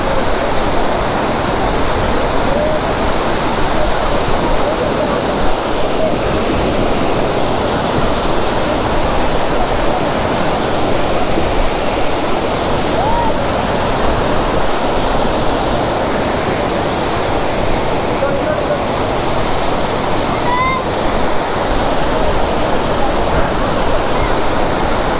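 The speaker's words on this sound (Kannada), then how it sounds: "ಇಲ್ಲಿಂದಾನು ನೀರು ಬೀಳುತ್ತೆ ನೋಡ್ರಿ ಮಳೆಗಾಲದಲ್ಲಿ." Sirimane Falls near Sringeri roars in a constant, loud wash of falling water that holds steady from start to finish, close by and unbroken.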